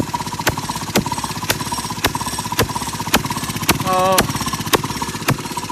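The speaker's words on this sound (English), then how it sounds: "Gotta go ahead and run it one time with the motor in." An 80-year-old Maytag engine runs on its newly assembled cart with a steady, rapid put-put firing, punctuated by sharp regular bangs about every half second, with a brief spoken exclamation near the start.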